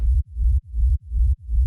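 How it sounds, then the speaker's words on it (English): Kick sub layered over a compressed white noise sub rumble in a hard techno production, a heavy low throb pulsing in four-to-the-floor rhythm with brief gaps between thuds, loud and alone. "and then layer that with a kick sub"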